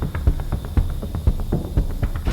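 A polishing machine works over the paint of a Tesla Model Y, giving a close, throbbing hum with a steady rhythmic pulse of roughly four beats per second.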